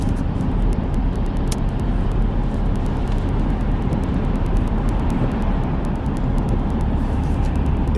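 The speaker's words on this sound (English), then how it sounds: "Driving nuts in the rain this morning." A car drives along a road in the rain, giving a loud, steady roar of tyres and engine with constant wash of road and water noise and sharp ticks throughout.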